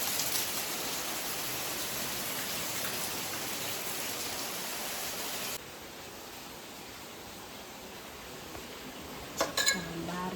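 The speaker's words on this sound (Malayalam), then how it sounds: "മഴ പടപടയെന്ന് വെള്ളം വീഴുന്ന മഴ" Heavy morning rain pours steadily in a dense, even hiss that drops slightly in level midway, with a brief clatter near the end.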